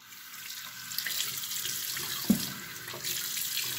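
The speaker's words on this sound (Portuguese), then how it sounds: "Primeiro, você umedece as mãos com uma quantidade boa de sabão." Tap water runs steadily into a sink during handwashing, a continuous close splashing stream with a brief louder splash midway, no talking.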